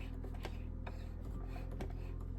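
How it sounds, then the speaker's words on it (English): A sewing machine's needle mechanism moves up and down as the handwheel knob is turned by hand, giving soft, faint mechanical clicks and ticks at an uneven slow pace over a low background hum. "if I turn the knob, that's my needle going up and down"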